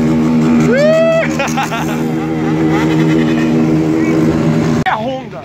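A Honda motorcycle passes close by, its engine droning loudly with a rising pitch sweep, then cuts off sharply before picking up again briefly, while people talk over it.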